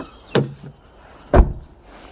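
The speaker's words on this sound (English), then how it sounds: "the doors make a nice noise when you shut them." Two solid door thuds from a 2001 Mazda 626 about a second apart, close and fairly loud, with quiet in between.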